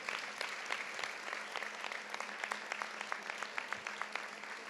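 Applause from an audience at a homage to elderly residents at a town festival in Amposta, a fairly distant, steady patter of many hands with a few louder claps standing out, continuing throughout.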